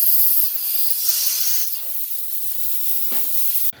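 Steady loud hiss of steam escaping from a pressure cooker used while cooking masala pulao, a continuous broadband rush that fades slightly toward the end, with a brief sharper burst near the close.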